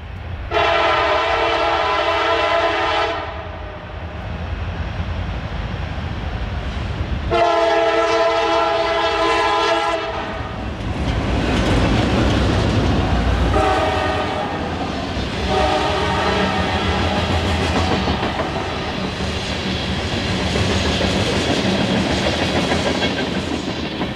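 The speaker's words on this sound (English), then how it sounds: "we heard the Tullahoma Turn blow its horn for the south portal of the nearby Cowan Tunnel" A loud CSX freight train horn blasts in long, harmonic bursts near the south portal of the Cowan Tunnel, then the passing freight train rumbles and clatters steadily underneath further horn sounding.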